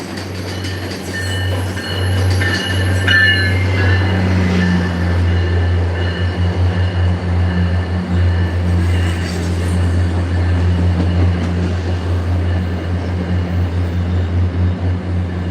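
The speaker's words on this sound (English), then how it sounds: "that's the train" A train rumbles through Forest Hills station close by, a loud, sustained low roar of rolling cars with faint wheel squeal and clatter on top, holding steady for the whole pass without a break.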